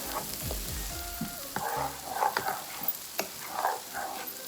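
Stirring in a hot pan while cooking glazed grilled salmon with parsley gives a steady sizzle with scraping knocks. Several louder utensil clanks come through, and a faint background bark shows up briefly.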